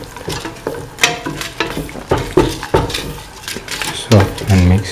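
Kidney beans sautéed and stirred into a tomato and coconut mixture in a pan, with clanking and scraping of a spoon against the pan in irregular strokes, close, partly under a speaking voice.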